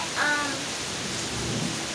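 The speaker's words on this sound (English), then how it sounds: "The rain's coming on me now." Steady rain falls in a continuous broadband hiss, fairly loud and close, with a brief faint tonal squeak early on and no talking over it.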